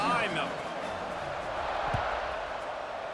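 Stadium crowd in EA Sports College Football 26, a steady broad roar of many voices filling the space as a kickoff nears, holding loud and even throughout with one low thump near the middle.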